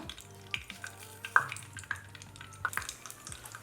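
Mustard seeds crackle and splutter in a pan of hot ghee for tempering spicy khara pongal, a soft sizzle broken by scattered sharp pops and a few clinks of the pan.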